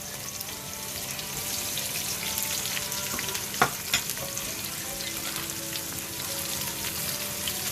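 Sliced onions sizzle steadily in clarified butter with whole spices, a continuous close frying hiss with a couple of brief stirring clicks midway and no talking.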